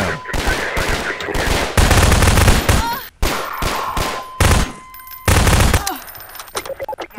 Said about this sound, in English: He just started shooting and, you know, just got trigger happy.